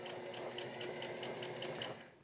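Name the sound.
sewing machine top stitching raincoat sleeve lining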